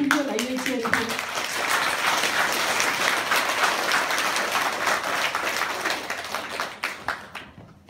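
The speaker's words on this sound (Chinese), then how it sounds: "再把最感恩掌声送给杨某林师姐" Steady, dense applause from an audience at a Changshengxue gathering, with a voice heard briefly at the start, holding level for most of the clip before tapering off into scattered claps.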